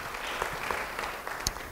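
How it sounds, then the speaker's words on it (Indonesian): A church congregation claps during a sermon, producing a brief, soft patter of many hands with a few sharper claps, heard faintly from a distance. "Beri tepuk tangan bagi dia."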